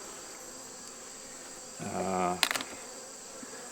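Honey bees at a hive in West Virginia keep up a steady, high, even buzz during a hive inspection, with a short spoken word breaking in near the middle.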